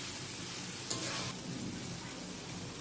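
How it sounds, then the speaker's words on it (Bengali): Fried pumpkin pieces tipped into cooked-down spice masala in a pan for a Bengali puti fish curry, giving a steady broadband sizzle with a brief louder burst as they land. "আমি এখন ভাজা কুমড়াগুলো দিয়ে দেবো"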